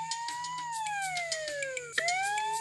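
Cartoonish ambulance siren from a children's video game, a loud electronic wail sweeping down in pitch and then restarting, heard alone without talk.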